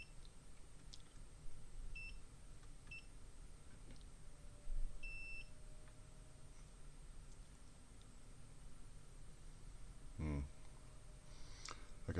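Short electronic beeps from a multimeter probing a PS4 circuit board during repair, a few brief tones scattered among faint clicks and quiet background noise.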